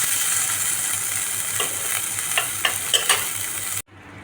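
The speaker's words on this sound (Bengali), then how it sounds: "মাছগুলো এরকম কড়া করে লাল লাল করে ভাজতে হবে" Fish fries crisp and red in a hot pan for a Bengali ridge gourd and fish-bone chochchori, with a steady close sizzle and a few sharp pops before the sound cuts off abruptly.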